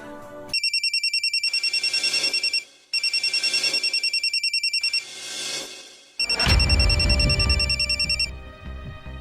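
A telephone rings in repeated electronic trilling bursts with short gaps, loud and close, followed by a louder rustling clatter.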